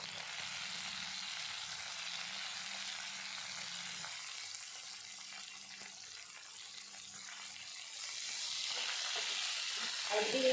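Garlic and spring onion sauté in oil in a pan for Marathi-style roasted baingan bharit, a soft, steady sizzle with faint stirring scrapes that grows slightly louder near the end.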